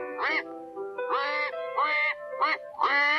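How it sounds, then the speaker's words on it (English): Cartoon-style angry duck quacking at a pond, five loud nasal quacks in quick uneven bursts, close up with no other sound around them. "Then Simon heard an angry quacking and went to the duck pond."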